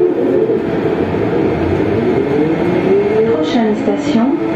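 A Siemens VAL 208 automated metro train runs between Trois Cocus and Borderouge stations, a loud steady rumble with rising and falling motor whine heard from inside the car and voices faintly present.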